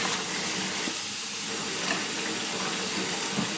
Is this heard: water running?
yes